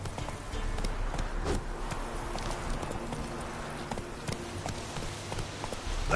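A horse in the fantasy game The Witcher 3 gallops with rapid, rhythmic hoof clip-clops that run steadily and fairly close throughout.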